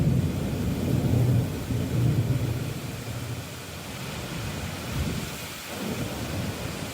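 A thunderstorm with steady heavy rain and deep rumbling thunder rolling beneath it, with no voices.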